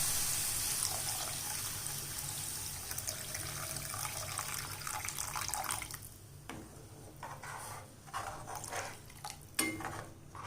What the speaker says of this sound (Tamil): ஒன்றரை கப்பாவில் வச்சு தண்ணி வச்சுருக்கேன் அதை அதில் சேர்த்துக்கலாம்